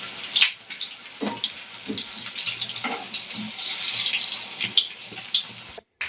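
Egg bondas, street-cart style egg fritters, frying in hot oil with a steady bubbling sizzle that runs throughout, with a few brief pops and a short gap near the end.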